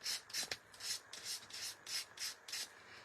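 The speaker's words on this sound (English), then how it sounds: "You can use a sandpaper as well, it doesn't have to be your nail file." A nail file rasps back and forth across the paper edges of a mixed media frame, about eight steady rhythmic strokes, close and fairly quiet with no talk.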